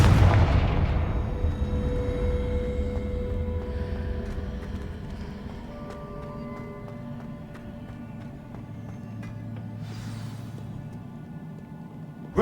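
Confringo explosive spell in the Hogwarts Legacy video game, a heavy deep boom at the start that rolls off into a long rumbling decay under sustained game tones, with a faint hissy flare near the end.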